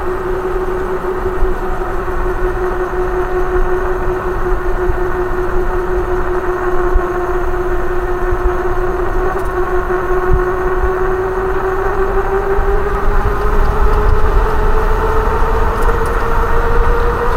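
Steady rushing wind roar with a low drone while coasting downhill without power on a Happyrun G70 dual-battery, dual-suspension e-bike, continuous and loud throughout with no talk.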